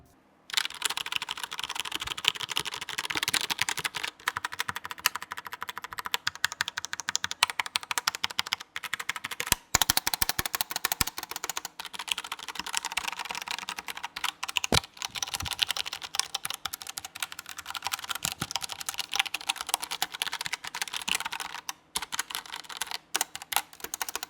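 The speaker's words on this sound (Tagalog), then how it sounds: "very satisfying ang kanyang sounds when you're clicking dito sa mechanical keyboard ni Logitech na pop keys" Fast, continuous clicky typing on a Logitech Pop Keys mechanical keyboard, close and crisp, with dense keystrokes and brief pauses across the whole stretch.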